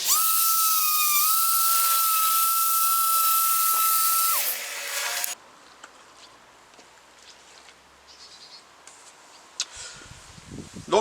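A sander works the rusty surface of a cast iron machine table, giving a loud, steady high whine with a brief pitch dip for about five seconds before cutting off abruptly, leaving quiet shop background with faint knocks.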